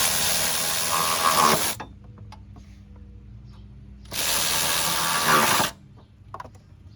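A ratchet is tightening radiator mounting bolts on a GM minivan. Two loud bursts of rapid clicking pawl action, each about two seconds, sit close up with quiet shop pauses and faint taps between them.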